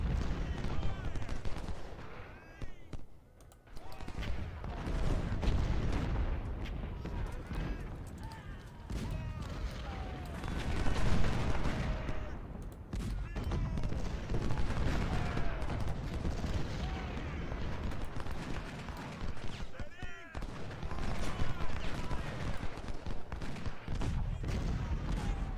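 Civil War cannons and rifle volleys boom and crackle in the Ultimate General battle at Perryville, a near-continuous barrage of overlapping shots and heavy blasts, with a voice talking intermittently over the fighting.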